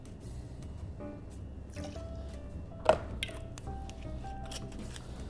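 Dolin Rouge sweet vermouth is poured for a Vieux Carré cocktail, heard as soft liquid trickles and drips with a sharp glassy clink in the middle, close and quiet.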